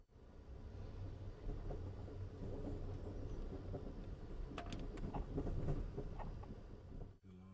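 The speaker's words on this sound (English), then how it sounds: "This was one of those quiet moments on Amtrak passenger trains. Just the scenery and the rumble of the wheels." Wheels of an Amtrak passenger train rumble steadily on the rails from inside the car, a low continuous roll with a few brief clicks and knocks, fading out abruptly at the end.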